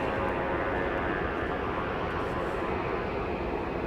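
A plane taxis toward departure at Dallas Love Field, giving off a steady, moderately distant jet engine roar and whine that holds unbroken throughout.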